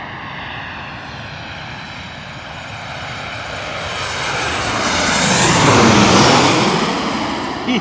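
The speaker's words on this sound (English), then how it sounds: "United Airlines, Boeing 737-800 from Denver, Colorado." United Airlines Boeing 737-800 from Denver approaching to land over Queens, New York City, a jet engine roar that swells steadily as the plane nears and passes close overhead, with a sweeping whine.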